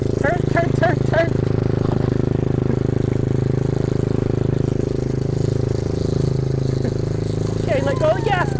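A Kayo dirt bike engine runs with a steady low drone while a child rides it, and an adult voice talks over it throughout.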